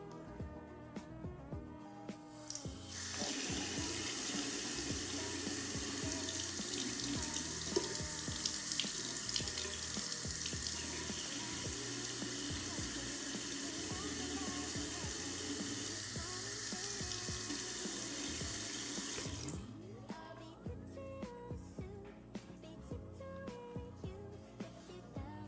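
A sink tap runs steadily during washing, a loud continuous rush of water lasting about sixteen seconds and then shutting off abruptly, with quieter handling sounds before and after.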